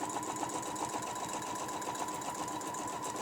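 Sewing machine stitching a quilt along a ruler, petals worked off a dome in the Fresh as a Daisy design: a fast, even, mechanical whirring hum that runs steadily and close up.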